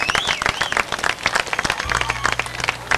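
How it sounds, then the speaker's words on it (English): Crowd applause for race winner Jim Emerson at Beech Ridge Motor Speedway during a 1992 ACT Pro Stock Tour event: dense, lively clapping across the grandstand, with a low steady hum joining partway through. "a nice round of applause again for Jim Emerson"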